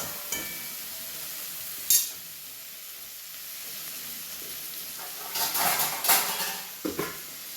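Masala being stirred in a frying pan, a soft steady sizzle with occasional louder scrapes and clinks of the spoon against the pan, busier toward the end.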